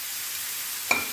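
Very small cubes of chicken sizzle with a steady hiss in a hot pan, and a sharp metallic clink sounds near the end.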